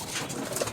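A homing pigeon gives a brief soft coo, close by, over a hissing background.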